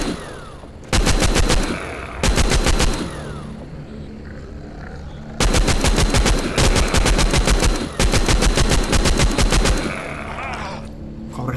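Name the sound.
gunfire in a zombie shooting video game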